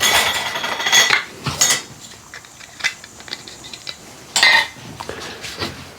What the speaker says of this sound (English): We're gonna put a lid on that.